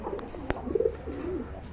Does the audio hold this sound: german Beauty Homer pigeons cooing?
yes